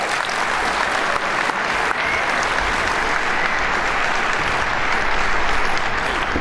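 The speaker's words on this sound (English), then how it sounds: "So a round of applause for Scott." A large conference audience applauds a special guest walking onstage at a WordPress event, a dense, steady roar of clapping sustained throughout and swelling slightly near the end.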